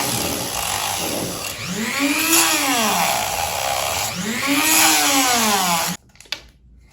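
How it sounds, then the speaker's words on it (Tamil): A power tool drills holes in a coconut shell for a Bluetooth speaker build, its loud whine rising and falling in pitch as it bites in twice, then stopping abruptly with a brief knock afterward. "இப்போ நம்ம ஹோல்ட் பண்ண ஸ்டார்ட் பண்ணலாம்."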